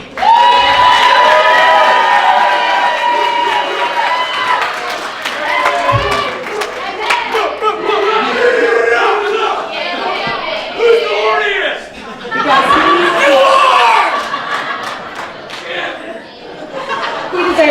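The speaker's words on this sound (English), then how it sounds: "let's give a real round of applause to Mike." A wedding crowd at the speeches applauds and cheers, steady clapping mixed with whoops, laughter and chatter that stays loud and continuous throughout, with voices talking within it.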